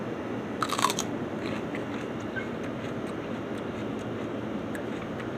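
A sharp crunchy bite into jalapeno-flavored food, followed by quieter chewing and crackling, close to the mic over a steady low background hum.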